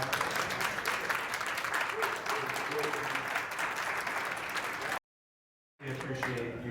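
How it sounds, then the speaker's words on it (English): Audience applause following a live lecture on Chinese warfare at the Museum of World Treasures, a dense steady clapping that fills the room for about five seconds, cuts out briefly, then resumes with a voice starting to talk over it. "I want to give him a round of applause."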